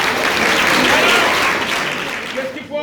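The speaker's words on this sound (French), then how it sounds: "On peut les applaudir très fort" A crowd claps loudly for young dancers at an African dance event, dense applause at full strength that gradually fades, and a voice comes in near the end.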